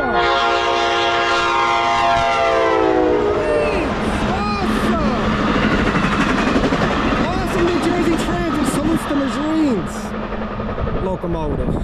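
An NJ Transit locomotive sounds its horn in a loud, close, multi-tone sequence of long blasts, followed by the rumble of the passing train and rail cars, with voices audible over the noise.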